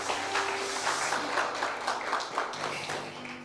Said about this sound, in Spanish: Dele un fuerte aplauso al Señor Jesús